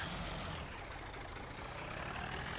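Tractor engine idling in Farming Simulator 17, a steady low rumble holding at an even level throughout with no talk over it.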